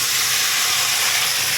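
Radish, eggplant, beans, peas and potato hiss and sizzle loudly and steadily in a hot pan, a dense close roar of frying with no pauses.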